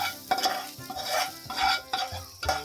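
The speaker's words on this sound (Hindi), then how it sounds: "इसको हम अच्छी तरीके से चला देंगे।" A spoon stirs chicken cashew gravy in a pot, with repeated close scraping strokes and a soft sizzle in between, in an even rhythm with no talk.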